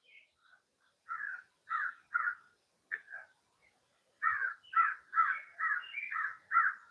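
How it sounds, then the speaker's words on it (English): Several crows caw in the distance, first in scattered single calls, then a rapid run of harsh caws near the end. "Okay, you hear the crows coming?"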